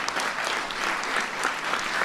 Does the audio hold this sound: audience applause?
yes